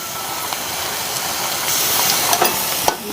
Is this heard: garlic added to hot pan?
yes